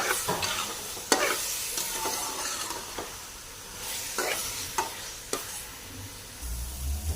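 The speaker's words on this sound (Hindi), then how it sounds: "तो अब हम बस 2 मिनट तक और इसे भुनेंगे, क्योंकि ऑयल छोड़ना शुरू हो चुका है।" Grated carrot halwa stir-fried in oil in a pan, with a steady sizzle broken by repeated scraping strokes of a spoon, close and fairly loud with no voices.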